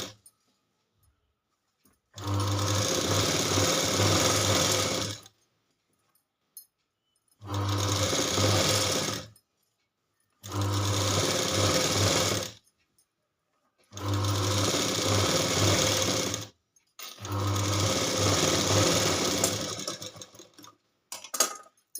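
Domestic sewing machine stitching a double seam on a garment for a size 34 fitting, heard as five separate runs of steady motor whir, each a few seconds long, with short quiet pauses between them and no talk.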